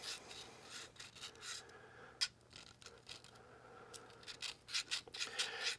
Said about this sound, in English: That will sharpen up your serrated edges with no problem.